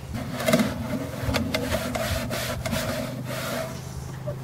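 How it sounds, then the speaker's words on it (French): Scrubbing the filter block of a nano aquarium, a close, steady rasping rub with repeated short strokes over a low background hum, no talking. "Je frotte un petit coup sur le bloc."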